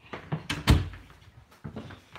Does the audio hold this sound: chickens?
no